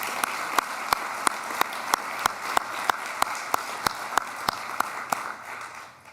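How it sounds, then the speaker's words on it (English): An audience at a university awards ceremony applauds in a hall, a steady wash of clapping with sharp individual claps standing out at regular intervals, fading out at the end. "Let's have a round of applause for Professor Iancu."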